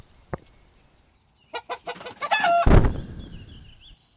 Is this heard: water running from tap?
no